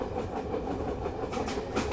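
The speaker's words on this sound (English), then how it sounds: "We're on the night train!" Night train to Ankara rolling on its tracks, a steady low rumble with faint rhythmic clickety-clack heard from inside the carriage, and a few sharper rattles near the end.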